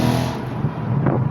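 Loud, continuous engine roar from a Mercedes SLK55 AMG (R172) above 3,000 RPM with exhaust valve actuator bypassed, a dense steady drone with road noise.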